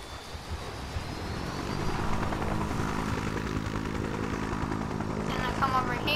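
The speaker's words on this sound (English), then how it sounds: "I get in the helicopter." A helicopter in the video game Just Cause 3 flies with a steady, loud rotor and engine drone that swells slightly after the first seconds and holds, with a voice talking over it.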